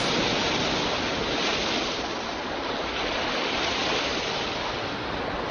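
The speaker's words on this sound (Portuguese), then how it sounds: "A maré está subindo." Surf of a rising tide washes in as a steady, dense roar of breaking waves, loud and continuous with gentle swells in intensity and no voices.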